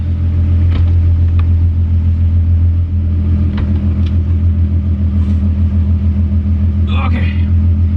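A Volkswagen MK2 with a swapped-in VR6 engine drives along with a steady, loud low rumble and droning hum, engine note holding fairly constant throughout.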